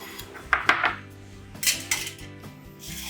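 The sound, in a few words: dishes clattering while plating food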